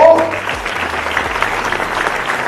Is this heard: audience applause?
yes